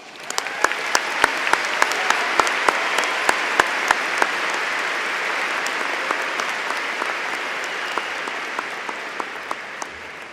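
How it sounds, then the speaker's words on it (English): Sustained applause from a large audience at a high school graduation ceremony, with individual sharp claps standing out early before settling into an even, fading patter. "Please give all these people a round of applause"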